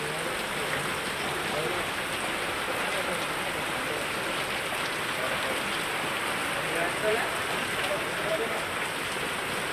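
Heavy Sunday-evening rain pours steadily over Kollapur streets flooded with water, a dense, unbroken hiss that stays even and close for the whole stretch, with no clear voices above it.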